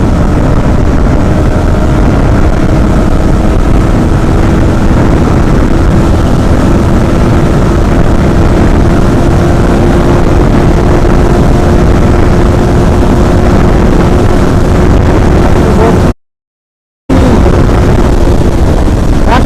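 A Yamaha R15 V4 motorcycle engine pulls in fifth gear during a top-speed run, a loud, steady droning whine buried in heavy wind rush, with a brief dropout near the end.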